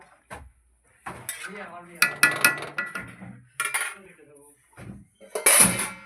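A lid is set over a pot of potato and meat curry on the stove, giving a few metallic clinks and clatters among other kitchen handling sounds, with a voice speaking in between.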